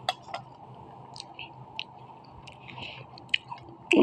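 Close chewing of a chocolate milk snack late at night, soft wet mastication with sporadic crisp bites and clicks against quiet background.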